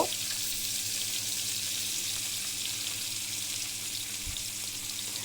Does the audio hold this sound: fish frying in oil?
yes